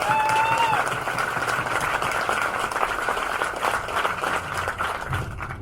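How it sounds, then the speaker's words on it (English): Audience applause at a support team gathering for the Moab 240 ultramarathon, a dense steady roar of clapping from a sizeable crowd, close and loud, with a brief cheer or whistle at the start and faint voices mixed in. "Big round of applause."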